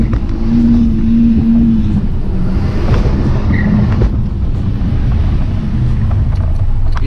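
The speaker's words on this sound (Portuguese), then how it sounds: "Vamos jogar no S aqui pra vocês verem a puxadinha do carro" An Audi RS Q3 in Dynamic mode with the gearbox in S accelerates hard, its engine giving a loud, close, rising roar with some wind buffeting, steady throughout the run.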